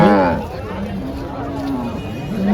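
Cows low loudly nearby at the Chalisgaon cattle market, with a long moo at the start over a murmur of market voices.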